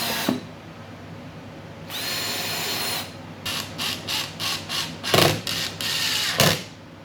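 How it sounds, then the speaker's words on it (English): A power drill drives screws into a clamped drawer face on a basic cabinet, whirring in a long run then a series of short rapid bursts, loud and close with no talk. "we can drive a couple of screws in from the inside"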